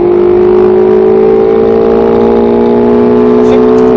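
A Ferrari 488 GTB engine drones loudly at steady, climbing revs on a track at Speed Vegas, the tone rising smoothly before a brief shift break near the end, with talk in the cabin over it.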